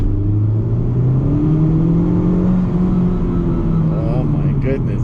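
A turbocharged car dropped into second gear accelerates hard, its engine a loud rising drone that climbs steadily in pitch, with a shift and faint voice sounds near the end.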